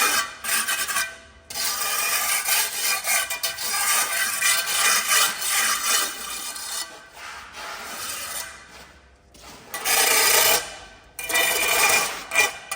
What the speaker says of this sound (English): we're going to use the edge of our trowel, get your trowel nice and clean. And we're going to cut off any snot